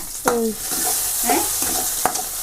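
Tomatoes frying in a pan while a spoon stirs them, sizzling under a few sharp scraping strokes of the spoon against the metal.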